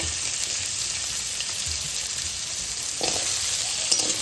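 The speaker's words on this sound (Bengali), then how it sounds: "ওই তেলটার মধ্যেই দিয়ে দিচ্ছে সবজিগুলো" Chopped capsicum, carrot, potato, beans and greens frying in hot oil for a toddler's fish curry, a steady close sizzle with a brief louder burst of stirring near the end.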